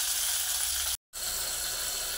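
Onions sautéing with salt in a pan give a steady, bright sizzling hiss that cuts out for a moment, then resumes at the same level.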